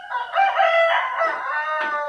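A rooster crows loudly and close in the dark hours before dawn, one long drawn-out call that trails into a shorter second burst, with no other sounds around it.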